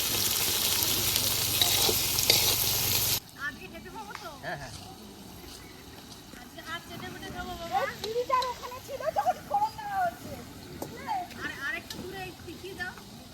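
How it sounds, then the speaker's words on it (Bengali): Onions fry with a little salt in a pan during outdoor cooking in a forest, a loud steady sizzle at first that then drops to a quieter crackle under a person talking. "সামান্য লবণ দিয়ে দেবো, পেঁয়াজটা তাড়াতাড়ি ভাজা হয়ে যাবে।"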